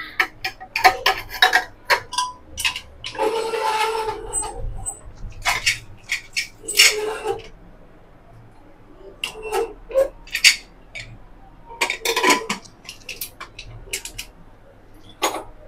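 Steel containers set inside a pressure cooker before the lid is closed make a run of sharp, close metallic clinks, taps and clatters in an irregular rhythm, with no voices.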